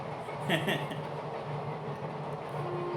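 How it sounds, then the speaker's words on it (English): A train runs close behind, a steady rumbling, rattling roar that fills the whole stretch, with a voice briefly heard over it near the start. "every time train will run just behind me by this time."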